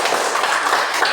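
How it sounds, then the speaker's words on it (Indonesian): A classroom group claps after a coding activity finishes, a brief, even burst of applause with many hands close by. "beri tepuk tangan"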